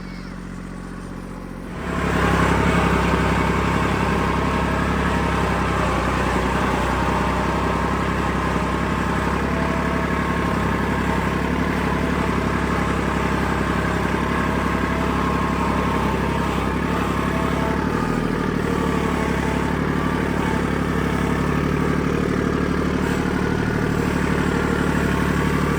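A tractor engine starts up and runs steadily, a loud, continuous mid-pitched drone that holds almost unchanged for over twenty seconds with no talk over it.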